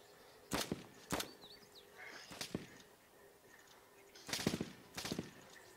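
Distant gunshots crack across an open area in DayZ, five or six sharp reports spaced irregularly, two of them in a close pair near the end, over a quiet windy background.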